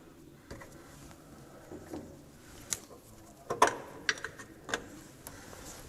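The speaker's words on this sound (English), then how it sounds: "We're going to undo all the mounting nuts." Differential mounting nuts on a Triumph TR6 being undone with hand tools under the car: sparse metallic clicks and ratchet ticks, a few sharper knocks in the middle, close by against a quiet workshop background.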